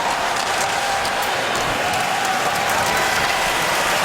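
Hockey arena crowd at Joe Louis Arena applauding the Detroit Red Wings penalty killers during a game against the Anaheim Ducks, a steady wash of clapping filling the whole stretch without pause.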